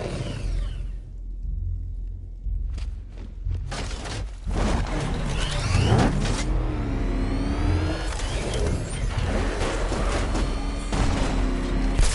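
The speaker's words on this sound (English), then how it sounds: "I need to get the car into this area before I can use it." A Batmobile-style car in Batman: Arkham Knight rumbles and revs loudly after a quiet start, with engine pitch rising and falling over a heavy low roar and scattered crashing bangs.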